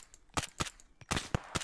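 Gunfire in the military shooter game ArmA 3: about six sharp, quiet cracks spaced unevenly over a second and a half, fairly distant and faint.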